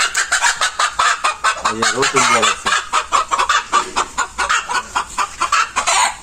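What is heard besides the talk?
desi hens clucking in coop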